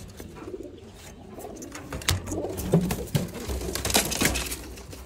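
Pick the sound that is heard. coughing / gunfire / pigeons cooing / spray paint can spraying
pigeons cooing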